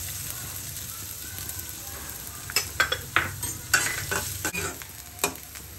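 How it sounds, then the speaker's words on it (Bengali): Chopped onions frying in a small amount of oil in a wok, a low steady sizzle broken by sharp stirring scrapes and crackling pops in the second half, close and fairly quiet. "পেঁয়াজটা আমার আধা ভাজা হয়ে গিয়েছে।"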